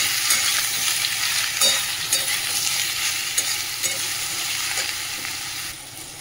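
Chopped bottle gourd frying in a hot spice tempering with dried chilli, a dense continuous sizzle with occasional stirring scrapes, close and steady, fading slightly at the end with no talking.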